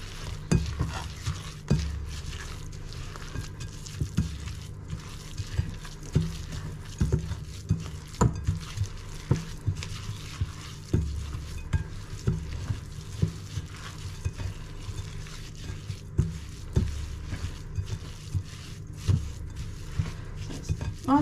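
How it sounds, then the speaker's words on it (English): Apple crumble ingredients being stirred together in a bowl, a steady run of soft scraping and clinking from utensil against bowl that repeats rhythmically at close range with no talking. "Give that a stir, just to incorporate all the ingredients together"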